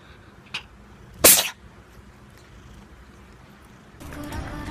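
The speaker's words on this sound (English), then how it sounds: "People say I sneeze like a cat." A single sharp, loud, cat-like human sneeze bursts out close by, followed by a quiet stretch and then a rise in background noise.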